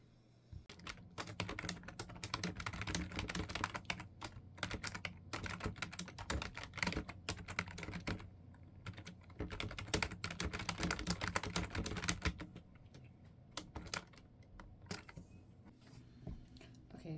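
Steady computer keyboard typing during late-night novel writing, rapid irregular clicks and clacks close by, with short pauses between bursts.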